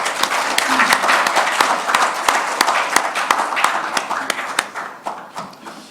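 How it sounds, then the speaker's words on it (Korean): An audience at a forum lecture applauds to welcome the speaker, a dense burst of many hands clapping with sharp individual claps standing out; it is loud at first, then thins and fades toward the end. "오늘의 연사이신 변준현 회장님을 큰 박수로 모시겠습니다."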